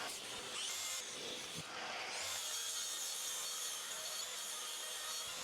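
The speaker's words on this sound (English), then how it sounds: "so we can cut this board all the way along so it ends on the centre of this joist" Hand sawing through insulation board for a suspended floor, a close, raspy scraping in quick strokes for a few seconds that then settles into a steady rough hiss, with no voices.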